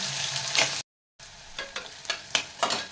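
Onions fry in a pan with a steady close hiss, with spatula scrapes and stirring bursts recurring irregularly, a brief silent gap partway through, and no talking.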